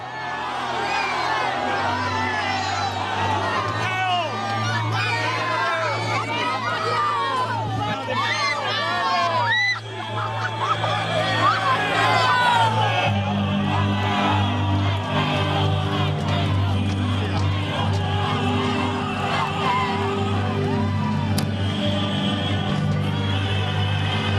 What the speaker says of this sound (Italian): due ali di folla impazzita